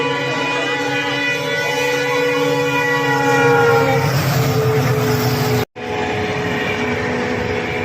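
A train passes close by, its horn sounding a long, loud, steady tone over the rumble and clatter of the wagons, and then the rolling noise carries on without the horn.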